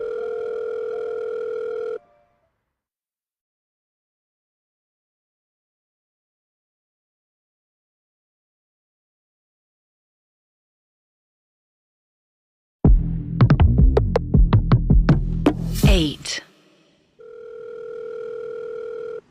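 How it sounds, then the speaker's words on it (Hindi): A phone on speakerphone gives a steady tone, falls silent for a long stretch after a number is dialed, then plays a burst of clicky electronic ringing and chiming before the tone returns. "वाणी जाकर फोन लेकर आती है और निखिल का नंबर डायल करती है।"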